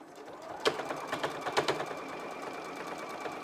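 Sewing machine stitching a hem along the folded corner of a single-layer dense-fabric face mask, a quiet close mechanical whir with a few sharp clicks near the start, running steadily alone.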